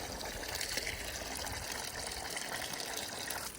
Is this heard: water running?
yes